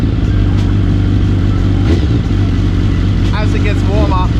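BMW S1000RR sport bike engine idling and revving on its own as it warms up, a loud continuous mechanical drone with a rising rev near the end, voices talking over it.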